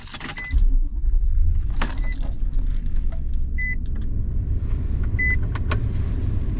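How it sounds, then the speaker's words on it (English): Keys jangle near a car in the early morning, followed by faint electronic chimes and a low, steady engine rumble continuing underneath as the vehicle is started and idles. "I'm gonna get my car started."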